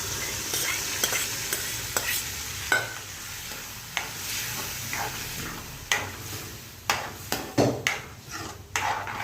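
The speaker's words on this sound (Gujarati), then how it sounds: "બરાબર હલાવો." Ghes, a traditional Gujarati porridge-like dish, being stirred as it fries in a pan, with steady sizzling and repeated scraping and knocking of the spoon against the pot, fairly close and without talk.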